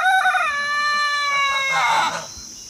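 Chickens in a chicken coop holding several breeds, including ultra rare birds: a loud, drawn-out rooster-like call with stacked tones rises up close, then tails off into softer background clucking.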